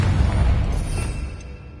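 A Confringo fire spell blasts in Hogwarts Legacy, a loud, rumbling explosive burst that hits at once and then rolls off and fades over a second or two, with no voices over it.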